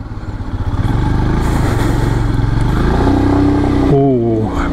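A 2022 Royal Enfield Scram 411 single-cylinder motorcycle thrums loudly and continuously while being ridden, the engine note rising through the revs with a shift near the end; no talk over it.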